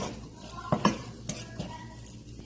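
Thick flour-and-oil sauce stirred in a large pot for chicken macaroni, a spoon scraping and knocking against the pot in a few uneven strokes over a soft sizzle and room noise, close and fairly quiet, no talking.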